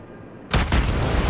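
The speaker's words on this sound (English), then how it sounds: "Send some return fire his way from all my main batteries" Main battery guns of a warship firing in the naval combat game World of Warships, a sudden heavy boom followed by a second blast and a rumbling tail, loud and close, with no talking.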